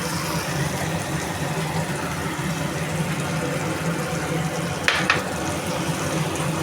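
Spices sizzle steadily in hot oil with yogurt and a little sugar, a close, even frying hiss throughout with a brief utensil clink near the end.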